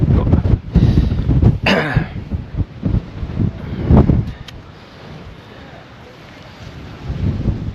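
Strong, freezing wind buffets the microphone on the summit of Snowdon in Wales at night, roaring in heavy gusts that ease off midway and then build again, with a voice speaking briefly over it.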